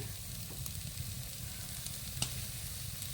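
Cumin and coriander powder frying with a mash of gourd leaves over low heat, a steady soft sizzle with occasional light stirring scrapes.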